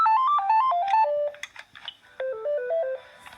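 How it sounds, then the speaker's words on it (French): A melodic electronic ringtone on an iPhone 3GS plays a rapid, stepping tune of clear synthetic notes, with a short pause and then a second descending phrase, loud and close. "Je vais vous présenter les sonneries du Gigazette."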